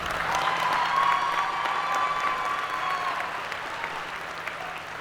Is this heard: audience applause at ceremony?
yes